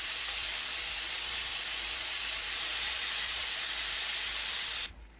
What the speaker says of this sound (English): let's start grilling and see how well it does